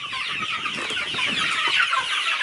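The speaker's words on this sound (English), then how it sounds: "how's my turkeys in their new enclosure?" A crowd of turkeys in a coop enclosure clucks and chatters together in a dense, continuous flurry of sound, close by with no talking.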